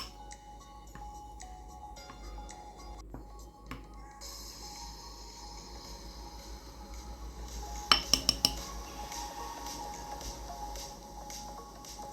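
Chocolate being stirred together with 100 grams of 20% sour cream for a coconut dessert: soft scraping of a utensil against a bowl, quiet and steady, with a brief run of sharp clinks near the end.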